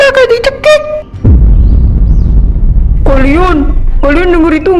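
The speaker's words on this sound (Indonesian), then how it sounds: "Kayak suara orang ngorok tapi dari tanah." A deep, rasping rumble like heavy snoring rises loudly from below, sandwiched between short bursts of voices speaking.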